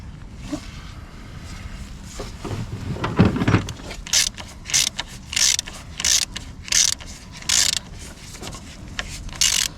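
Ratchet wrench tightening a glow plug on a Renault Kangoo 1.9 D diesel engine, a few scraping mechanical sounds followed by a regular series of crisp, close clicks in short bursts.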